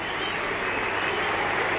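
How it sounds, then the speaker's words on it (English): Rapturous crowd applause fills the MCG at an AFL match, Geelong Cats against Collingwood, after Daniel Menzel's mark, a steady broad roar of clapping and cheering from a large stadium crowd heard alone. "Rapturous applause around the MCG."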